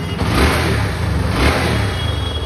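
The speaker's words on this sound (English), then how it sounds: "So let me just start the bike for you guys." A Bajaj Pulsar motorcycle engine, freshly restored with a new throttle wire, running close by with two smooth rises in revs over a steady mid-pitched idle, no talking.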